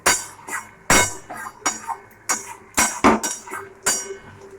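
Metal spoon scraping and clinking in a pan of egg curry with chopped coriander, a series of sharp close taps and scrapes roughly every half second, with no talk.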